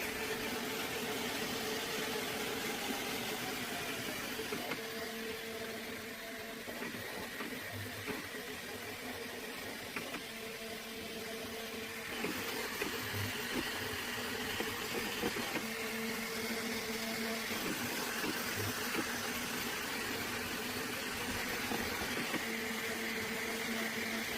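A Flashforge AD5X multi-color 3D printer running, a quiet steady mechanical hum with faint whirring tones and soft periodic ticks from the moving parts.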